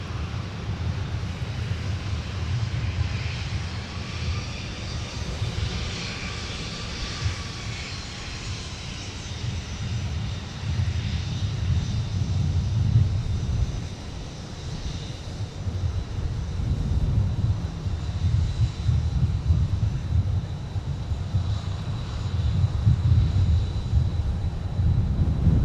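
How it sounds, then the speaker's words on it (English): A Delta jet airliner departs MSP airport at night, bound for Fort Lauderdale, its engines giving a steady, broad distant roar that swells gently over about half a minute, with light wind buffeting. "Here's Delta Flight 1683. They are off to Fort Lauderdale"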